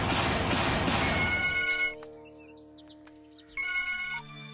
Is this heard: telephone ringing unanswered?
yes